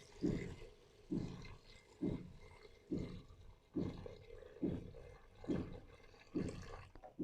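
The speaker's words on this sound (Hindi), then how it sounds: "अब मैं इसमें पानी ऐड करूँगी।" About two glasses of water are poured in pulses into a pot of fried masala for vegan aloo gosht, giving a series of regular gushing, glugging splashes roughly every second, fairly close and soft.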